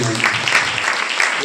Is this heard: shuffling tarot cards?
no